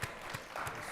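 Convention audience gives a round of applause for Dr. Chavis at the NNPA gathering, a brief, fairly faint patter of clapping heard from a distance.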